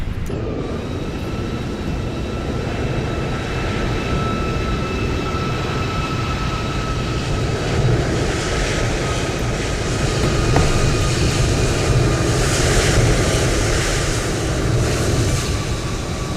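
Airbus A320 thrust reversers deploying on landing in Microsoft Flight Simulator 2024, a steady, loud broadband engine roar with faint whining tones that swells slightly midway, with no talking.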